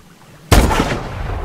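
A loud, sudden burst of gunfire from the futuristic shooter Call of Duty: Advanced Warfare, followed by a sustained roar of shots and blasts.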